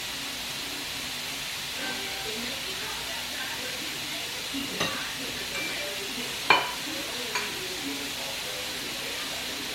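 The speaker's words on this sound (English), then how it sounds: "And the meat is being cooked, so it'll be quick." Meat cooks on an electric grill with a steady close sizzle and hiss throughout, broken by a few soft knocks and one sharper clack of utensils, with faint voices now and then in the background.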